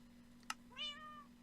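A single cat meow rises and falls quietly after a short click, faint over a steady background hum during a livestream.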